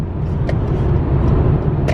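A car is driven home late at night on empty roads, its steady engine and road rumble holding close and loud throughout, with faint brief rattles on top.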